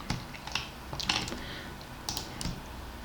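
Computer keyboard clicks while connecting points in Ansys, with scattered key presses including Enter taps; a handful of sharp, close strikes spaced irregularly over a quiet room.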